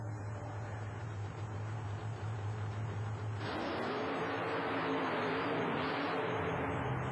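A 1991 Taurus Chevy monster truck engine roars at an indoor USHRA show in Worcester, MA, a loud sustained drone that surges sharply into a harder, higher rev partway through the qualifying run.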